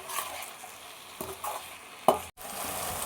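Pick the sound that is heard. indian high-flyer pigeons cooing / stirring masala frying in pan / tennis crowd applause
stirring masala frying in pan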